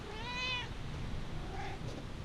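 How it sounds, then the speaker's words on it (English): A house cat named Archie lets out a single clear meow near the start, followed by a fainter second call over quiet room noise. "if you hear this cat, that's Archie. He never shuts up."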